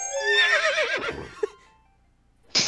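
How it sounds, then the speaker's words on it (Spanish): A rabbit creature in the video game Toilet In Wonderland lets out a loud, wavering horse whinny lasting about a second, followed by a short thump and a brief burst of noise at the end. "Es un conejo que ha sonido de caballo impresionante."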